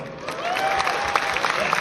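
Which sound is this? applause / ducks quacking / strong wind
applause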